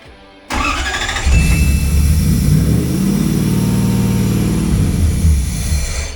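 A V8-swapped Toyota engine cranks briefly, then fires and settles into a loud, even idle close by, with no talking.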